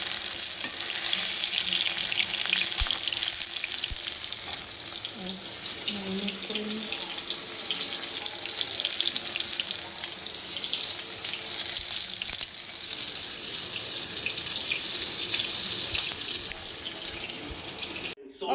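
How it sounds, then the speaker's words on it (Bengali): Chicken pakoras frying in oil, a steady hissing sizzle that runs throughout with faint background sounds and occasional clatter, ending abruptly. "এই দেখো পকোড়া ভাজছি, এরকম চিকেন পকোড়া"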